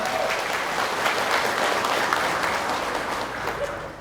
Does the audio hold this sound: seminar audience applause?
yes